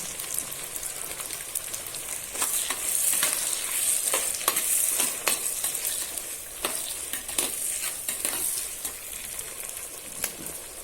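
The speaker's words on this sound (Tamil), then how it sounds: "தக்காளியை சேர்த்து நல்லா வதக்குங்க, வதங்கட்டும்." Onions and tomatoes sauté in a pan for a spicy kara kuzhambu. A continuous crackling sizzle runs throughout, with repeated sharp stirring strokes in an uneven rhythm, close and fairly loud, and no voices.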